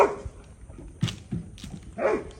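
A dog makes a few short yips and whimpers amid rustling and movement, nearby and moderately loud.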